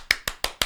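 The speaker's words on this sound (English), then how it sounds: "You get the nail clap." Four sharp, evenly spaced clicks of fingernails tapped together in a quick nail clap, close and crisp with brief gaps between.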